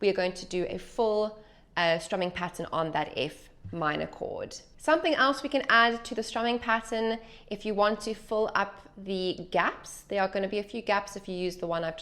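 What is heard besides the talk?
No distinct noise like a dog, phone or traffic.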